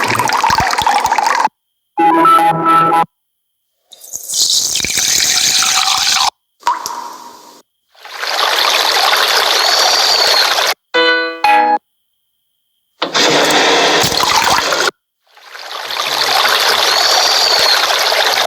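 Water sound effects previewed one after another in a video editor: several separate bursts of splashing, dripping and trickling water, each cut off by short silences, with no talk.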